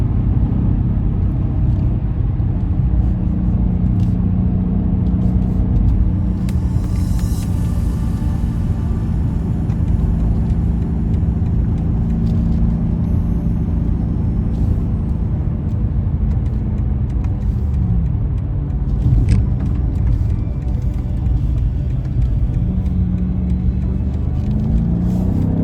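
A 2020 BMW M8 Gran Coupe with a 4.4 litre twin turbo V8 and 8-speed automatic drives along, heard from inside the cabin as a constant low engine rumble and road roar, with gentle rises and falls in pitch as it accelerates and shifts.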